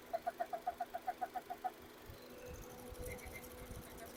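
A rapid, even series of about eleven ticking clicks over a low engine idle from a Honda Freed automatic, then the idle carries on rumbling unevenly.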